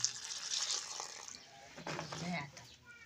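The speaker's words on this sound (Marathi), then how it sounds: "पाणी टाकून स्वच्छ धुवून घेऊ राहिल्या बघा" Water splashes over drumsticks being rinsed clean in a pot, coming as faint swishes and trickles while someone talks quietly nearby.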